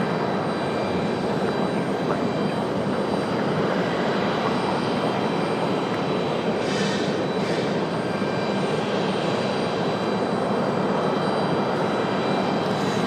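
An airliner departs runway 23 left at Raleigh Durham International Airport, its jet engines producing a steady, dense broadband roar that holds throughout without any voices.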